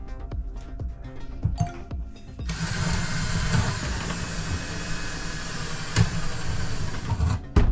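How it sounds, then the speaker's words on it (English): Power drill boring a hole through a cabinet inside a camper RV, a steady whirring grind running for about five seconds after a few short knocks, close and fairly loud, ending abruptly. "I'm going to drill a hole through there"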